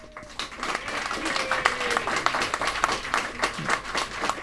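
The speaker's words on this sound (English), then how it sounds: "another round of applause for our champions" Applause from the audience at an award ceremony for Mind Sports Olympiad champions, with steady, fairly loud clapping throughout and some voices faintly mixed in.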